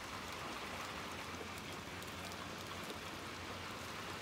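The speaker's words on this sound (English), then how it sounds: "More rain." Rain in the video game Little Nightmares 2, a faint, steady hiss of falling rain that runs evenly throughout, with no other sounds over it.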